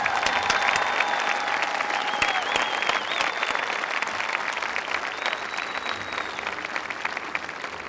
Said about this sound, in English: I think we should have a special round of applause for Alan for all those contributions